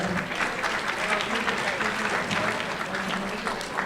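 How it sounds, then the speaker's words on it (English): A crowd at a distinguished service awards ceremony applauds an honoree, an even, steady wash of many hands clapping, moderately distant and sustained throughout, with no talk over it. "a round of applause for Felicia Braggs"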